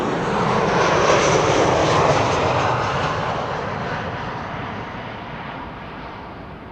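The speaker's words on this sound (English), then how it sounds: "This is a KLM 737-800 arriving from Rome," A KLM Boeing 737-800 arriving from Rome at Amsterdam Schiphol, its engine roar loud and broadband near the start, then slowly fading as it passes, with no talk.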